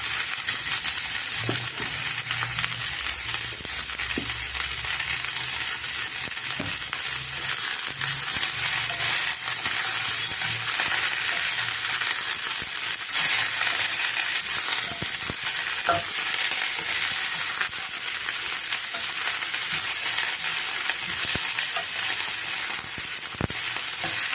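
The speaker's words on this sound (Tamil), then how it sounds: "இதோடவே வந்து பீன்ஸு கேரட் கத்திரிக்காய் எல்லாம் போட்டு அப்படியே எண்ணெயிலே வதக்கலாம்" Beans, carrot and brinjal sauté in oil for a wedding-style sambar, giving a loud, steady, hissing sizzle with occasional stirring clicks and scrapes from a spoon, close by and with no talk.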